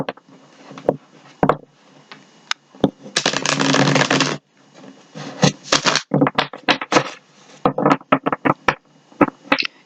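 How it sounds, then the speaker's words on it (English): A Universal Tarot card deck being shuffled by hand, giving bursts of papery riffling and tapping with one longer sustained riffle near the middle, close and fairly loud, with pauses between the bursts. "We are going to give this deck a shuffle or two."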